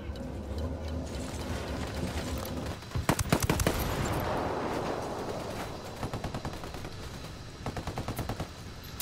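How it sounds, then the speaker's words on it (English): Rapid bursts of automatic gunfire crackle in Ghost Recon Wildlands, a dense volley of sharp shots followed by scattered repeated firing, with a low rumbling background beneath. "Opening fire."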